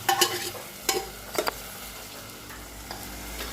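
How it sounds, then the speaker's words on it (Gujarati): Mung bean curry being stirred in a pan after tempering, with a few sharp clinks and scrapes of a spoon against metal over a low, steady sizzle, fairly faint and without talk. "મમ્મી મગનું શાક બનાવે છે અને વઘારી લીધું છે મગનું શાક"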